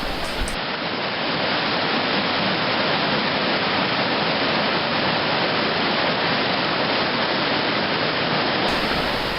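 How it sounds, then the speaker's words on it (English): A waterfall on a river along the Split Rock Loop Trail rushes in a constant, loud, broadband roar of falling water with no other sounds. "there are several waterfalls. I stopped at this one and had some water and a small snack and just enjoyed listening to the water"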